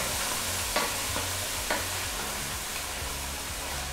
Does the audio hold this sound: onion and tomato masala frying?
yes